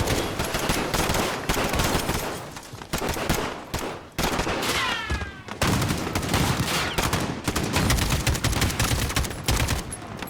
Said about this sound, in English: Easy, mate, you're firing on civilians.